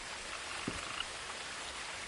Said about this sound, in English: I love the sound of the frogs and everything